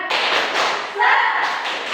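Pupils in a fourth-grade Indonesian science class perform a clapping chant, a dense, rhythmic patter of many hands close by, continuous for the whole stretch with a brief lull before a louder burst.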